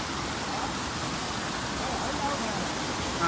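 Forest waterfall on a woodland trail, a steady, dense rushing roar of falling water that stays constant and close throughout.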